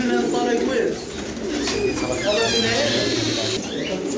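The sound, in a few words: pigeons cooing at a bird market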